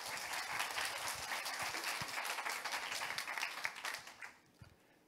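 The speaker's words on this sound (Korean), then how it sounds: "박수로 모실게요." An audience at a Korean science talk event claps to welcome a speaker: a steady, moderately distant round of applause that thins out and fades over the final second.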